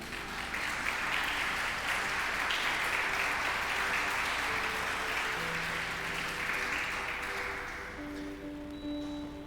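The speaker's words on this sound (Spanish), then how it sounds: "Dele un aplauso al Señor." A church congregation applauds during a sermon, a broad sustained wash of clapping held evenly for several seconds before tapering off, with faint tonal sounds lingering underneath.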